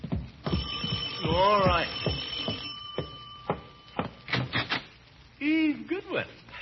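A doorbell rings in an old-time radio comedy scene from The Great Gildersleeve, several short bell-like rings sounding between pauses, with people talking around them.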